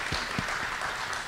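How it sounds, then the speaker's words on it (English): A political forum audience in Warner Robins, Georgia applauds with steady, dense clapping for a little over a second. The applause stays at an even mid level, with a few low thumps mixed in. "And while that deserves a round of applause"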